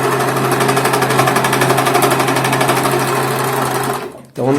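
A domestic overlock sewing machine stitching fabric runs loud and steady close by as a fast, even mechanical whir, then stops abruptly near the end.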